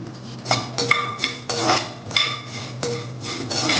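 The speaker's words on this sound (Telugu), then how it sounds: "సో అరకప్పు వరకు ధనియాలు వేసేసుకోండి" Half a cup of coriander seeds dry-roasting in a pan for sambar powder, stirred with a metal spoon: close, loud bursts of rattling and scraping against the pan in irregular strokes, without talk.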